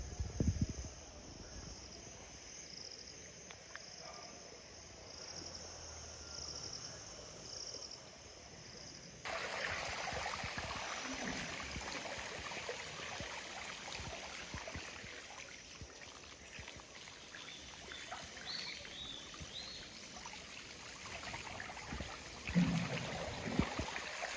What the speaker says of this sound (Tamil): இங்கே பாருங்க இதான் அந்த வாய்க்கால் எப்படி தண்ணி ஓடுனாங்க